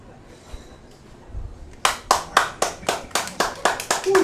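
Young child clapping his hands at a street festival, a steady run of about a dozen sharp, close claps in an even rhythm after a quieter stretch with faint background murmur.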